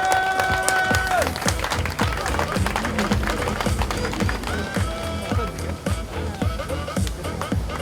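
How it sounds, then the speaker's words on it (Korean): A crowd at an outdoor Friday night rally in Yeouido applauds loudly with rhythmic clapping, mixed with music and talk from the stage. "큰 박수 받아주십시오."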